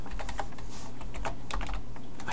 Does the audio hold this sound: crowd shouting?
no